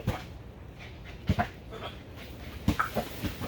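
A dog in circus trick training pants and lets out soft whimpers and yips, short close bursts scattered over a quiet room background with no talking.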